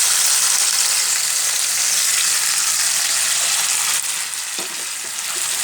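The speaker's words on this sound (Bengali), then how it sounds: "এখন আমি অন্য একটা ফ্রাই প্যানে নিয়ে নিলাম, দিলে একদম পানিটা শুকিয়ে ফেলবো।" Wet taro flowers cooking in a frying pan as their water boils off, producing a loud, continuous close sizzle that holds steady and softens slightly near the end, with a few faint stirring scrapes and no talking.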